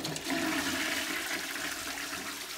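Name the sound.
Geberit concealed toilet cistern slowly refilling with water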